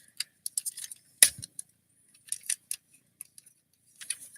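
Small plastic Transformers Brawn figure parts click and snap as they flip into place, a series of light, sharp ticks and one louder clack, close and alone without talk.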